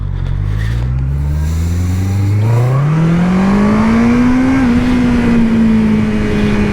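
A motorcycle engine revs hard as the throttle is twisted open. The loud, continuous roar climbs steadily in pitch, holds near the top, then settles slightly, close and with no voices over it.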